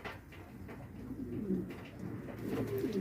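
Pigeons cooing close by, soft low repeated coos in a steady murmur throughout, with no talking.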